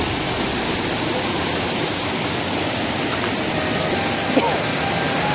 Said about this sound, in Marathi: बघू शकता पाण्याचा प्रवाह आणि दगड आहे